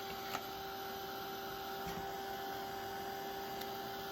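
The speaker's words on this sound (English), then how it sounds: "you can take your heat tool and heat up the adhesive" A heat tool blows steadily to warm the adhesive on a sticker during a Dollar Tree toy truck craft. It makes a quiet, even whirring hum that holds through the moment with a faint click near the start.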